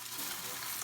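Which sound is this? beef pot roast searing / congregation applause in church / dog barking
beef pot roast searing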